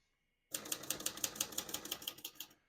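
Keys struck on a 1967 Olivetti Lettera 32 portable typewriter, a quick, close burst of about a dozen crisp mechanical clacks in steady rhythm after a moment of near silence, with no voices.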